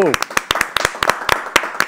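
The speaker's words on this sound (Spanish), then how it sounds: "Un aplauso para Orlando, bienvenido." Scattered, uneven handclaps from a small group welcome guest Orlando Avendaño onto a political talk show about Venezuela, about a dozen sharp claps over two seconds, with a brief voice at the start.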